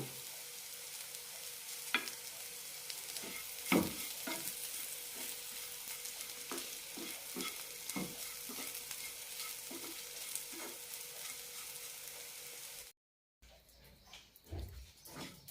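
Carrot fry being stirred in a hot pan sizzles continuously, with frequent spatula scrapes and clinks. A brief silent gap comes near the end, then quieter stirring resumes.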